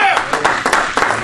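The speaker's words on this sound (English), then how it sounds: "go ahead and give God a hand clap of praise" A church congregation gives a hand clap of praise, a dense burst of many hands clapping in quick uneven bursts, loud and close, with voices mixed in.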